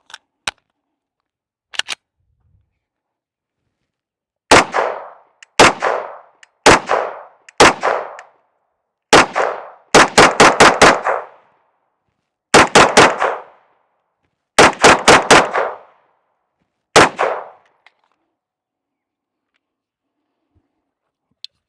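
A Canik TTI Combat pistol fires Fiocchi Range Dynamics ammunition at an outdoor range, sharp loud shots ringing out singly and in quick strings of three to five, with short pauses between strings.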